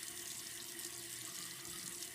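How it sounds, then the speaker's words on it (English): Water running steadily from a sink tap while a cleaning mat is rinsed, a continuous soft hiss and splash at low level with no voices. "I would not actually keep the water running"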